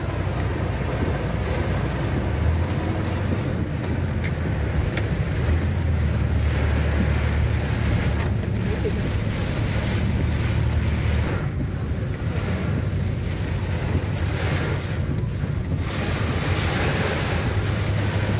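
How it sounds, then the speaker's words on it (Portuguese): Heavy rain pouring during a thunderstorm in a town square in Canindé de São Francisco, a dense, continuous roar of falling water with gusty wind noise on the microphone. "Fazendo um registro mesmo para mostrar que tem muita água caindo hoje."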